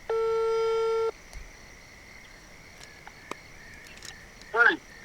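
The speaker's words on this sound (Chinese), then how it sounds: "打个电话问一下，刺探一下军情" An outgoing phone call gives one steady ringback tone of about a second, followed by quiet outdoor air at a fishing spot with faint insect chirring and a brief burst of sound near the end.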